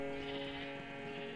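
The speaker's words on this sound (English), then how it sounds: "I don't know why all my sheep are congregating towards that corner" A single Minecraft sheep bleat sounds clearly and close, a short wavering tone that fills the brief moment without speech.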